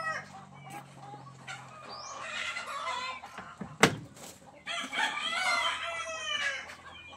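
Egg-laying hens cluck in short, busy bursts nearby while a rooster crows, with one sharp knock partway through and no speech.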